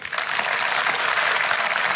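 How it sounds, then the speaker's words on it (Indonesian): Church congregation applauding during a Sunday worship service, a dense, steady burst of clapping from many hands that fills the room for about two seconds. "Kasih tepuk tangan untuk mereka."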